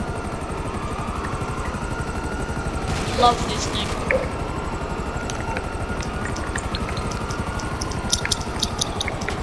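An aircraft engine drones with a steady, pulsing throb in the GTA Online game, while scattered gunshots crack at the airport and someone speaks briefly over it.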